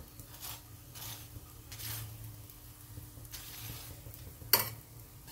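Aloo paratha roasting in a little oil on a pan gives a faint, steady sizzle with soft stirring and scraping, plus one sharp clink near the end; no one speaks.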